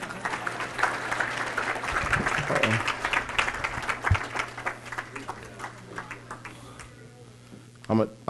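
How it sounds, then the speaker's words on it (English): Banquet dinner crowd applauding an honoree and her daughters, a steady patter of clapping that carries on at moderate distance, with voices and a few louder knocks mixed in before it fades out. "Let's give Kayla and her beautiful girls one more clap."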